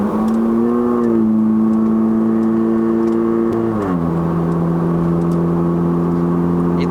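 A 2009 Honda City GM2 1.5E with a remapped engine hums steadily at highway speed, its cabin drone holding an even pitch before dipping slightly as revs ease, loud and continuous with no talk.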